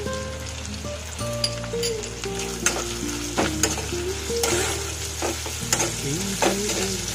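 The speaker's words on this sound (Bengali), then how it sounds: "আদা বাটাটা তেলে দিলে ছিটকোয়" Ginger paste fries in hot oil in a pan, crackling and sizzling continuously nearby with scattered sharp pops and stirring sounds, with no talking.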